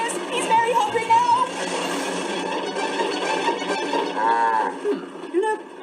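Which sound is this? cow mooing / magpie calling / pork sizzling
cow mooing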